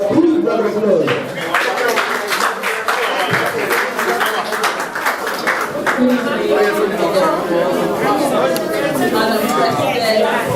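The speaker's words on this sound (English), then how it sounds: "A big round of applause." An audience at a Nigerian Society of Engineers presidential ceremony gives a steady round of clapping and cheering, dense and close throughout, with a voice speaking over it.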